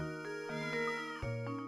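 A cat in the Professor Layton puzzle game meows several times in a row, clear and close, with long drawn-out tonal cries and no talk over them.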